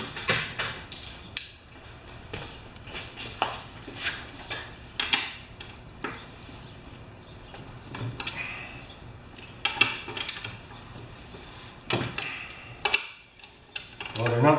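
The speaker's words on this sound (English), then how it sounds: "Now I'm going to just check it with a 1/2-inch ratchet" A 1/2-inch ratchet and socket work a bolt on a Tecumseh 3.5 HP mower engine, giving scattered sharp metallic clicks and clanks at irregular intervals, fairly quiet overall.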